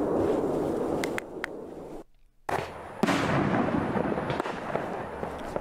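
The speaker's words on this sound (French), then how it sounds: "La charge c'est pour le jeter en l'air et la bombe pour exploser quoi." Ground-launched fireworks, a loud crackling stream of bursts with sharp pops and booms, a short quiet gap, then more rumbling explosions and crackle.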